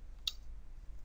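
A single quiet computer mouse click, sharp and brief, against a low hum while committing code in Android Studio.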